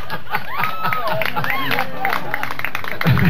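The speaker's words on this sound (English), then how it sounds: "Oh, don't clap at that." An audience at a live rock band gig at a vineyard claps and cheers in a short burst, with crowd chatter and voices mixed in.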